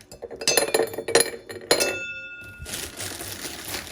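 Ice cubes drop and clink into a glass in a home kitchen, several sharp bright clinks in quick succession, followed by a softer hiss of pouring or settling.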